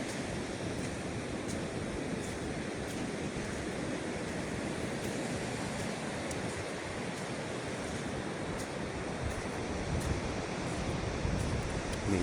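Ocean waves wash continuously onto a beach shore at Long Beach, a steady broad roar of surf with some wind noise, no talking.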